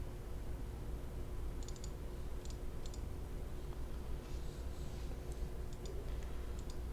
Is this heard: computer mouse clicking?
yes